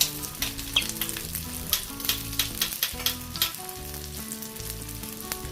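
Onions for chilli chicken balls cooking over a high flame, a loud, continuous close sizzle with brief crackling bursts and a few stirring knocks, no talk.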